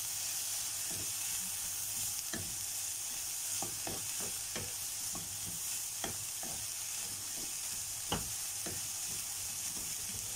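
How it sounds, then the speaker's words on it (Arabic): Peppers frying in an oil-free pan, stirred with a steady background sizzle and scattered sharp scrapes and taps of the utensil spaced irregularly across the stretch. "هنقلب بقى الفلفل اللي معانا ده كده"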